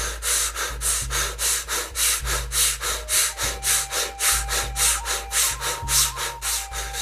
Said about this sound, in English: now we're going to take some fast breaths together